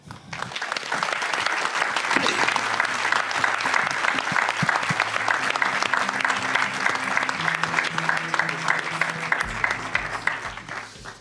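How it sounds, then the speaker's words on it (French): Steady, dense applause from a conference audience at a volunteering assembly, sustained evenly for over ten seconds, with a low hum entering near the end. "Et s'il vous plaît, applaudissez-les."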